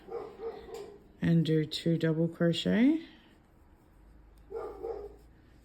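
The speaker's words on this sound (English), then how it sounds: "apologies for the dog barking." Dog barking in a quick burst of several loud, close barks, with someone talking before and after while crocheting, as a neighbour mows his lawn nearby.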